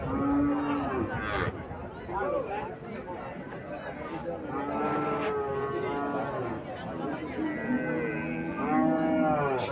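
A Sahiwal-breed cow gives several drawn-out moos amid a busy cattle market, with people talking and chattering throughout, the lowing moderately near and partly under the crowd noise.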